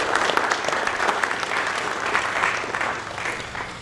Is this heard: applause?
yes